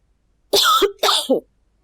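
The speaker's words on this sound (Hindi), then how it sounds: "क्यों नहीं रुक रही है खांसी?" A person coughs in two harsh, close bursts, each with a rough double pulse, in an otherwise quiet room.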